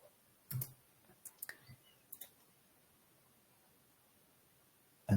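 Sharp, quiet computer mouse clicks, several scattered single and double taps separated by near silence, close to the microphone in a quiet room.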